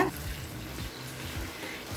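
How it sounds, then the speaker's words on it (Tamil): Chicken sautés in a pan for a chicken gravy, giving a soft, close sizzle with brief scraping and stirring sounds at a low level over two seconds. "இப்போ சிக்கனை நல்லா 1 நிமிஷம் வரைக்கும் நல்லா வதக்கியாச்சுங்க."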